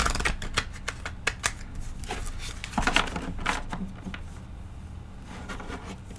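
Tarot of Mystical Moments cards being shuffled and drawn by hand, a close series of crisp riffling flicks and soft taps, busier at first and thinning out toward the end.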